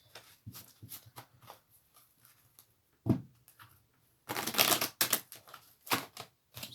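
Crisp papery riffling and snapping bursts, cards being shuffled in uneven flurries with short pauses, close and fairly loud, no voices.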